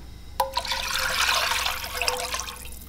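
Homemade chicken broth pours steadily into a cooking pot, a continuous near splashing and trickling rush lasting a few seconds after a short onset, with no talking.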